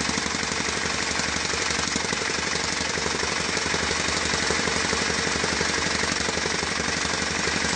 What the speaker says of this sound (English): a couple of pounds with the air hammer sent this flying right out